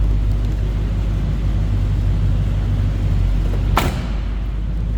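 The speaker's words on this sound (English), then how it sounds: "A nice sounding truck. This thing runs smooth, has a great sound to it." A 1977 Chevrolet Silverado C10 pickup truck's engine idles close by, a steady low rumble, smooth and even throughout, with a brief thump near the end.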